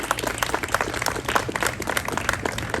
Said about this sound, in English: I would just like to get a round of applause for Yasmin